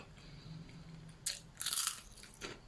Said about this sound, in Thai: อันนี้มันฝรั่ง อืมมันฝรั่งนี่แบบ กรอบมากเลย